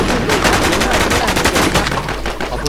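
Rapid gunfire in the video game Infestation on the Rocky Ford map, a dense run of close, loud shots firing almost continuously, with a voice briefly heard alongside.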